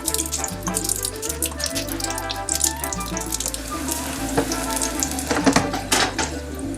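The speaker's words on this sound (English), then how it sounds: "Now I'm just going to fry this for a few minutes until I start to see some nice little seared bits on that onion." Onion and pepper searing in a hot pan for pupusa curtido, a constant crackling sizzle with occasional pops, set against a repeating low background music line.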